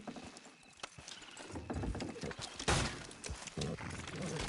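Horses trot in Red Dead Redemption 2, a steady clip-clop of hooves running under wagon and outdoor game ambience for several seconds, with a brief louder burst partway through.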